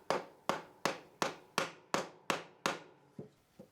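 A wooden mallet drives a tapered wooden handle into a new mallet head braced on a workbench edge: about ten sharp, evenly spaced knocks, close and crisp, the last two softer.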